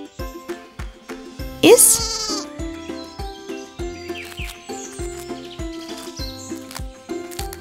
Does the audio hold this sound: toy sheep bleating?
yes